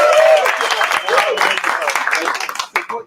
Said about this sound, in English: put all that together in like a little thing that sounds like a round of applause